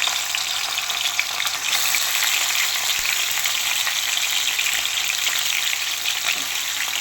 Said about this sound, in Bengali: সর্ষের তেলটা একটু গরম হয়ে গেলে এবার হালকাভাবে মাছগুলো ভেজে নিচ্ছি